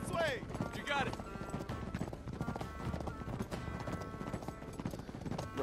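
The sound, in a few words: horse galloping in video game Uncharted 3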